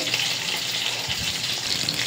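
A katla fish head frying in a pan, giving a continuous close hiss and spatter of hot oil that stays steady and fairly loud, with no voices.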